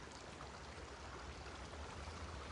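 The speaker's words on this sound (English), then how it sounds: "Can you hear the river?" Soft, steady rushing of a flowing river at Cirauqui, even and continuous with no voices, heard at a gentle distance.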